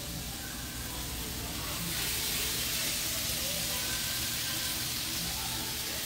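Shrimp fajitas with fresh garden herbs and vegetables being stirred in a hot pan give a loud, continuous sizzling hiss that swells slightly partway through, with occasional utensil movement.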